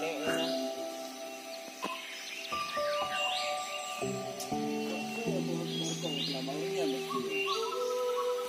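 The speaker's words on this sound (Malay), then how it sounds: "masih ada kicauan burung murai batu" White-rumped shama (murai batu) sings varied, rich whistled phrases with trills, moderately close, over a steady tonal hum and other faint bird calls in a mountain setting.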